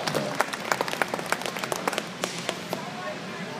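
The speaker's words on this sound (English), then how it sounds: "would you give her a round of applause" A state fair show audience in Oklahoma City in 2014 applauds the superintendent, a thin scattering of distinct claps close by that slows and thins out, with people talking over it.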